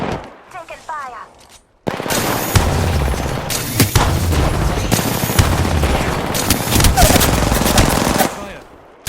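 Video game gunfire from a charge rifle and other weapons: dense, loud bursts of automatic fire and sharp shots rattling almost nonstop after a brief quiet opening with a faint voice.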